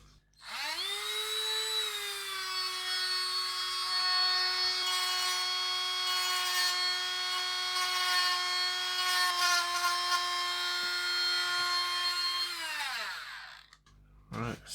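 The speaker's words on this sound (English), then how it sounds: "Let's attack it with the Dremel." A Dremel rotary tool cuts into the plastic case of an SNES Mini console with a steady high-pitched whine. It runs continuously for about twelve seconds, then spins down, loud and close.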